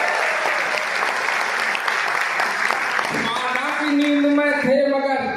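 An audience at a Hindi comedy poetry performance applauds loudly and steadily, with a voice rising over the clapping near the end.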